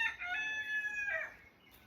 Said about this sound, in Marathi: हे कोंबडे सकाळी 6 वाजल्यापासून ओरडत आहेत